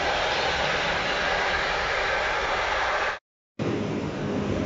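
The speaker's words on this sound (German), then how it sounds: "mein Zug kommt auf Gleis 6" A train pulls into track 6 at a railway station in Vienna, a loud, steady rushing rumble with a brief gap of near-silence before the noise resumes; no voices are heard.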